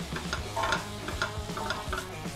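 Seasoning stirred in a frying pan with salt added, before ossobuco beef shank goes in: steady close sizzle under repeated scraping strokes of a spoon against the pan, no voices.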